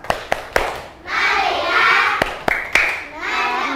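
A classroom group claps together in a counted rhythm game. A quick run of three crisp unison claps is followed by chanting voices, then more claps spaced apart with children's voices between them.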